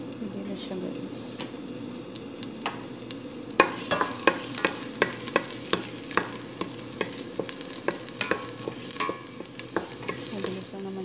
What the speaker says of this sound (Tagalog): So lalagay ko na yung bawang